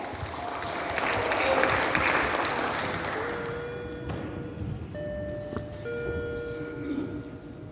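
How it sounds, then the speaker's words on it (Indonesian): Audience applause for team B during a quiz competition final, a steady wash of clapping from a crowd that swells early and then holds fairly even, with faint tones and a little background chatter mixed in. "Kita beri aplaus untuk tim B."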